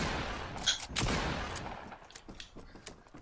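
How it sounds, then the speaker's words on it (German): A quick burst of sharp, noisy Fortnite gunfire, a shot fired upward, cracks out, followed by fainter rattling shots fading over a few seconds. "Chris sagt, ein Schuss nach oben."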